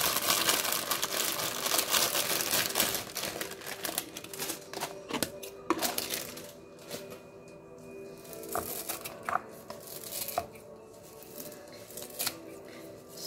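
Plastic bags holding fresh coriander leaves crinkle and rustle up close, with busy crackling early on that thins into sparser crisp handling noises and clicks.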